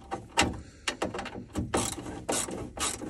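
Ratchet wrench tightening bolts during an LS engine swap on a Ford F150, a series of close, rhythmic clicking bursts with short pauses between strokes.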